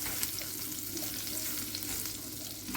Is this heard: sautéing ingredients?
yes